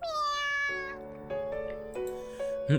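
A kitten in a video game meows in a drawn-out, high cry followed by several shorter mews, close and clear with no talking.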